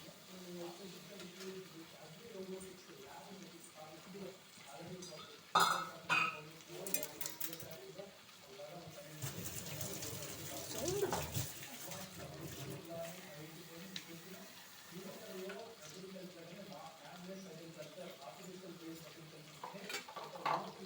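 Garelu, lentil vadas, frying in a pan of oil, with a faint sizzle under stirring, clinks of pots and utensils and intermittent kitchen clatter, quiet overall.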